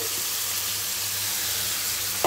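Washed arum stems hit hot oil with softened onions for a fish-head arum stem curry, giving a steady, close, even sizzle throughout, with a brief louder burst of frying near the end.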